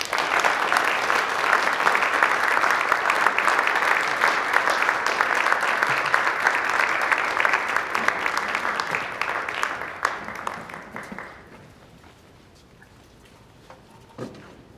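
An audience at a keynote talk on Gandhi's global legacy claps in sustained, dense applause that holds steady for about ten seconds, then thins out and fades to scattered claps.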